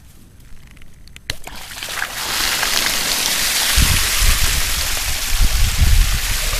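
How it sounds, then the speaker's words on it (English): Pond siphon drain opening up, water rushing through a pipe in a sudden hissing surge that settles into a steady, loud gushing stream with splashing. "Now I'm going to open this valve and start the siphon."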